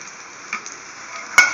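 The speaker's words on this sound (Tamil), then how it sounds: "இப்போ இந்த தக்காளி சட்னியில் நாம் தாளித்து கொட்ட போகிறோம்." A tempering sizzles as it is poured into tomato chutney, giving a soft steady hiss that flares into a brief sharp burst near the end, close up with no talk.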